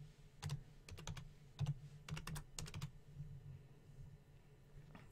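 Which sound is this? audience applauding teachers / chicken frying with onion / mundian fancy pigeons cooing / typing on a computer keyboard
typing on a computer keyboard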